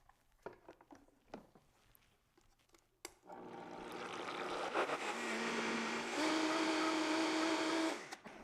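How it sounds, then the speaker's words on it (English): A countertop blender whirs loudly through almond milk Alfredo sauce, starting abruptly after a few quiet knocks and rising in pitch as it runs steadily for about five seconds before cutting off. "so we're going to blend this all together until it's nice and creamy"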